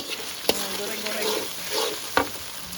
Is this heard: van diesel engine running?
no